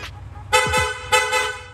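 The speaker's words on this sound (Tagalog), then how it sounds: "Long press lang po natin yung horn switch, yung busina natin, magsusunod-sunod na po yan." A car horn fitted with a PIAA horn set honks twice in quick succession, each blast loud and close, with a brief pause between them.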